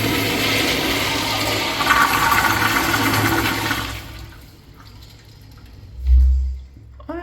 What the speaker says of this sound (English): Honestly, a pretty standard flush for a blowout urinal